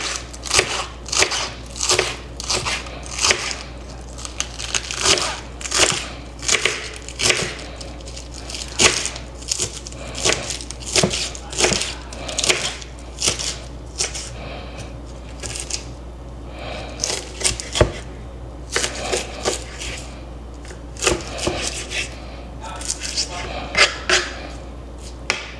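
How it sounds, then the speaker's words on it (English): A knife shredding food as finely as possible for taco night, making quick, crisp, rhythmic cuts against a board, close and fairly loud, with a few brief pauses between runs. "I'm gonna take it and slice it like as shredded as I possibly can"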